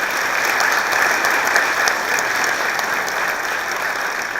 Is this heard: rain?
no